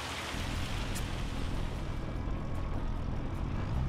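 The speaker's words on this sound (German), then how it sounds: "Die Regensimulation erinnert mich an Silent Hill" Simulated rain in Farming Simulator 25 hisses as a dense, steady wash of drops over a field, loud and unbroken for the whole stretch with a low rumble underneath.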